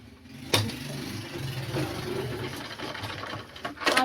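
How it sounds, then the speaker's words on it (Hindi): A sewing machine stitches a blouse seam in short, even mechanical runs with a faint whirring rhythm, punctuated by a couple of sharp clicks, close and moderately quiet. "तो मैं यहाँ से सिलाई मार लूँगी।"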